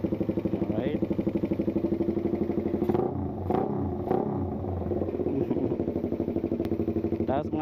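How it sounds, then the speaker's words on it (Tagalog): A motorcycle engine idles nearby with a steady, rapid chugging pulse, its carburetor audible over a quiet engine, with brief clatter and faint voices in the middle. "tahimik lang yung makina niya, maririnig niyo lang yung"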